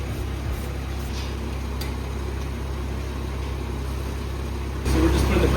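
A BMW X3 with a ZF 8-speed transmission idles in a workshop during a transmission fluid change, a steady low engine hum that holds evenly and grows slightly louder and rougher near the end.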